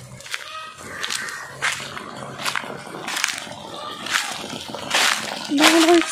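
Water from a pipe splashes onto plants in a home kitchen garden, in intermittent sloshing bursts of varying loudness close by.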